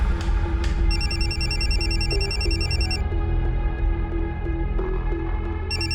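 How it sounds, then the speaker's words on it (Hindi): A telephone rings with an incoming call in a crime drama scene, its electronic trilling bursts repeating in a regular pattern at moderate volume over a low background hum. "राकेश भैया का फोन है, तुम्हारा फोन नहीं लग रहा है, बात करो।"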